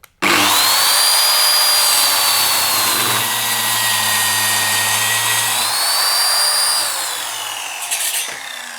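A Mafell KSS300 plunge saw rips straight through a 30 mm oak board with a loud, close, sustained whine. The pitch dips as the blade bites and rises again near the end before the saw winds down.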